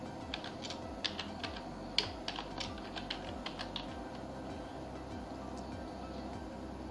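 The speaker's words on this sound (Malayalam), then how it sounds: "So I will just type in YouTuber." Light, scattered keystrokes on a computer keyboard, soft clicks in an uneven run that thins out toward the end, heard over a steady low electrical hum.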